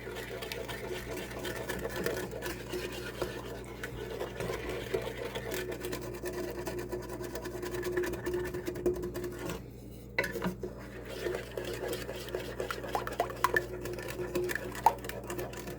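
A spoon scrapes and clinks steadily against a pot while stirring a chocolate, oatmeal and peanut butter no-bake cookie mixture. The sound is faint and close, with a low hum underneath and a voice talking now and then.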